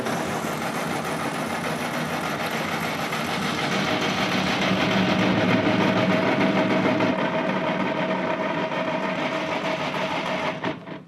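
A Ford 8N tractor's engine is cranked by the starter without catching, a steady whirring churn that stays loud and continuous for about ten seconds, then cuts off abruptly.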